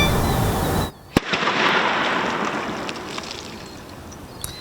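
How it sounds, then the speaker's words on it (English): A staged car explosion set off by the ATF National Response Team lands as a sharp blast followed by a smaller pop and a long rumbling, rushing wash that slowly fades outdoors. "What you just saw on your screen was a planned car explosion"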